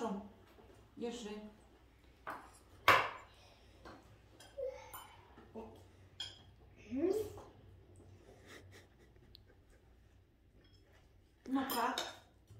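Cutlery clinks against plates during a meal of maple syrup, a few sharp separate clinks spread through the stretch, with people talking in between.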